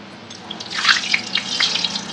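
Puris for gol gappe dropped one by one into hot oil, sizzling and bubbling in bursts that swell and crackle, close up with no talk.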